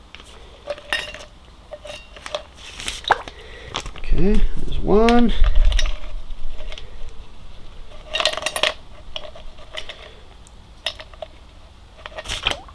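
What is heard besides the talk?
ice cubes dropped into a plastic hydration bladder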